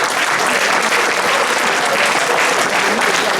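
Loud, dense applause from an audience at a village harvest festival crowning a queen of the grape harvest, continuous clapping close by with no pauses.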